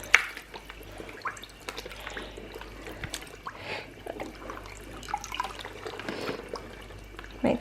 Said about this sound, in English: Just going to get our hoodie, put it into the water.